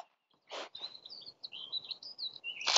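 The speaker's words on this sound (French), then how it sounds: "avec les petits oiseaux qui chantent" Small birds sing outdoors in the Cantal countryside, with a string of bright, quick chirps and twittering phrases close by, broken by a couple of short louder bursts of noise.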